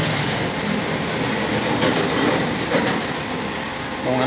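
Heavy trucks rumbling past along a roadside, a continuous loud, broadband roar that swells and fades as vehicles go by close to the microphone, with no talk over it.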